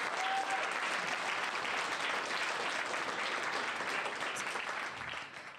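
Audience clapping steadily at an AI Camp demo day, a dense, continuous wash of many hands that holds strong and then thins slightly near the end, with no talking over it.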